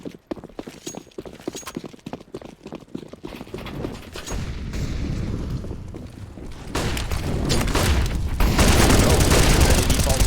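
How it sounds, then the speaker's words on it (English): Counter-Strike match with flashbang and molotov grenades: a busy run of rapid sharp clicks and footsteps, then a swelling fiery roar and bursts that build louder toward the end. "Molotovs, flashbang."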